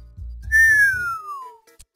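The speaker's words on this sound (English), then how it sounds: "He whistled." A single rising-then-falling whistle in a visual novel video game, clear and close, with a low musical backdrop fading under it and no talk.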